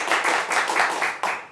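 Steady audience applause at an improv comedy show, a dense wash of many hands clapping for about a second and a half, swelling in waves with a fresh surge near the end, as the crowd votes for an answer choice.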